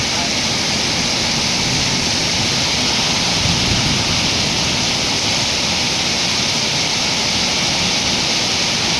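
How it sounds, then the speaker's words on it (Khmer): Dense, roaring heavy rain fills the whole stretch as a constant loud wash of noise with no breaks. "ឮសំឡេងយកមើលសំឡេងទឹកភ្លៀងនេះ"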